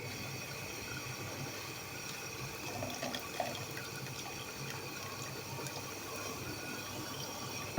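Rose petal sharbat syrup is poured through a strainer, producing a steady close liquid trickle and splashing flow that holds an even level throughout, with no voices.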